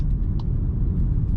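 Volkswagen Nivus 1.0 200 TSI Highline automatic engine responding to throttle, a steady low rumble from inside the car, loud and continuous without speech.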